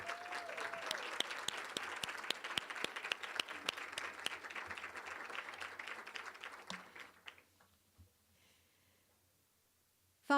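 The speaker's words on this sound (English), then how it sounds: "One more round of applause for Leah." An audience at a women's awards ceremony gives a sustained, dense round of applause that fills most of the stretch, then thins out and fades to near silence.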